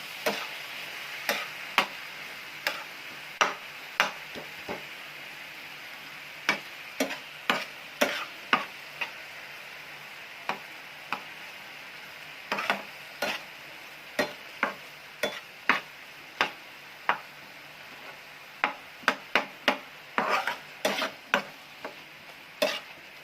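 Spoon scraping and tapping in a pan while jaggery and gram flour are stirred for carrot barfi, a quiet steady sizzle broken by irregular sharp clicks that grow more frequent toward the end.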